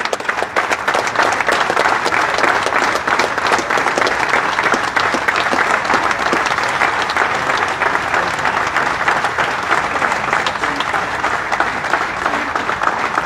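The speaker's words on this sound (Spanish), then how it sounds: "el aplauso extendido en memoria del exministro" Dense, sustained crowd applause at a memorial march for justice in a city plaza, loud and steady throughout with no break, rising from many hands clapping at once.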